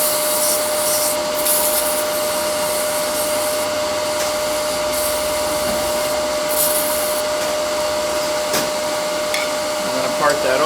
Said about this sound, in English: You sand it just a hair.